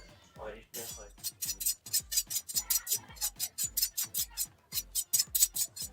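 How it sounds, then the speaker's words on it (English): A kitchen knife drawn along a sharpening tool, a rapid series of bright, rasping metallic strokes in steady rhythm, close and crisp, with a voice speaking at the start. "While sharpening a knife, we should make sure it's going away from your body like this"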